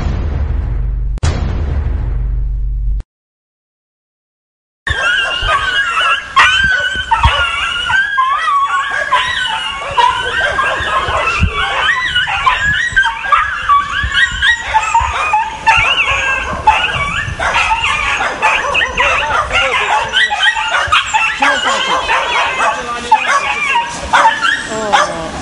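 Many dogs barking, yipping and whimpering at a Romanian animal shelter, a loud dense chorus continuing for most of the stretch after a brief gap, with people speaking underneath.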